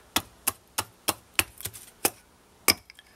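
A hand axe chops a piece of cedar in a steady series of about eight sharp, close, crisp strikes, evenly spaced with a slightly quicker pair in the middle.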